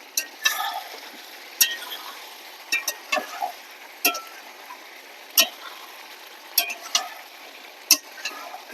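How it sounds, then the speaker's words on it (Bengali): Chicken sautéed with chicken masala in a pan gives off a faint background sizzle, broken by irregular clinks and scrapes of a spoon stirring, with no talking. "এবার ভালো করে কষিয়ে নেব। মাংস যত কষাবো তত খেতে ভালো লাগবে"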